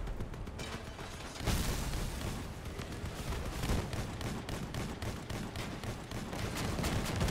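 Hammerfall shotgun fire in a video game, a dense run of loud booming blasts and mechanical clatter, one heavy burst around the middle, with no talking.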